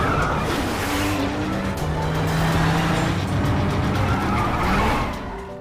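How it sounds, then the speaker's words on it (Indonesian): Cars race in a film scene, one of them borrowed, with loud engines roaring and tires squealing and skidding throughout, tapering off at the end. "Tak disangka, Cheng Sun berhasil memenangkan balapan itu dengan mobil yang dia pinjam dari temannya."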